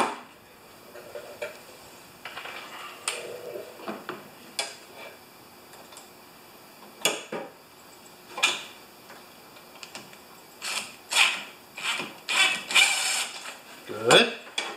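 A screwdriver works on a Husqvarna snow thrower carburetor, giving irregular small metallic ticks, clicks and ratcheting taps close by, with some scraping.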